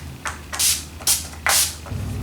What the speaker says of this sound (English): I'm just going to be spraying my face with a little bit of Urban Decay Chill Makeup Setting Spray